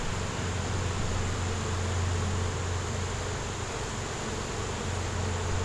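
Honey bees buzz steadily on a hive frame, a dense continuous drone with a low hum underneath, close and unbroken throughout.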